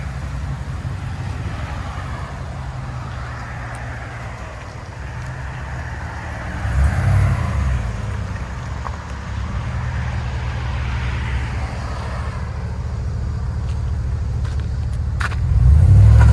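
A GMC/Chevy 6.2L V8 truck with an aftermarket exhaust rumbles steadily as it pulls away, swelling louder partway through, with wind and road noise mixed in.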